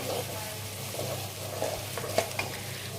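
Ginger-garlic paste, turmeric and cumin powder stirred in hot oil, with a steady sizzle under soft scraping strokes and a couple of light clinks of the spoon against the pan, close and without talking.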